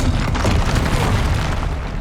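The Incendio fire spell is cast in Hogwarts Legacy, a loud, continuous roaring blast of flame with a heavy, booming low end that holds steady for about two seconds.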